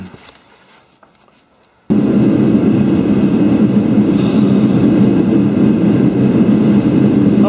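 A 1955 Studebaker car engine cranks over briefly with faint clicks, then catches and runs loud and steady, a dense rumbling idle that continues without a break.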